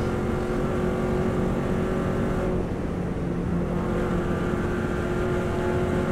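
A Subaru WRX STI engine runs flat out on a racing lap of the Isle of Man course, a loud, steady sustained roar with drifting tonal harmonics while sliding wide in sixth gear.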